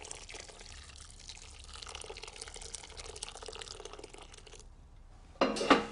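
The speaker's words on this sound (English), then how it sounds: "on top of this sunshine yellow mixture, I want just under a litre of water" Just under a litre of water poured into a pan over a sunshine yellow mixture, a steady low splashing gush that runs for several seconds, then cuts off before a brief louder splash at the end.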